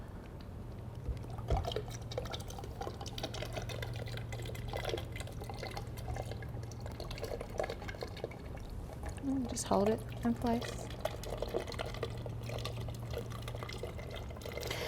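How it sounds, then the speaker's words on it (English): Water is poured into a well in a sand aquifer model, with soft trickling and splashing under close conversational voices and a brief gurgling burst partway through. "as we pour the waters inside the well"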